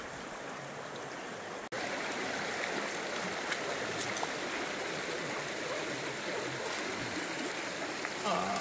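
Cold mountain river water rushes steadily through a rocky gorge of the Dâmbovița, a broad, continuous near roar with a brief dropout early on and no voices.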